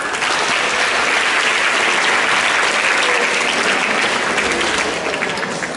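Audience applause at a visit to Seminari Pius XII Kisol, a dense, steady clapping that fills the room loudly and continuously from start to finish with no talk over it.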